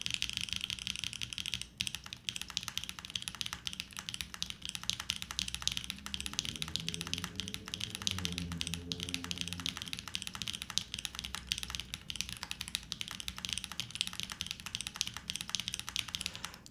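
Steady typing on a Delta50 50% mechanical keyboard with blueberry swirl switches, an aluminum plate and GMK keycaps, giving quiet, continuous key clacks at a brisk pace, heard close with no voices.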